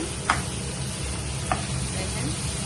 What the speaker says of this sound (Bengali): এখন আমি এগুলো ভেজে নিচ্ছি মালাইকারির জন্য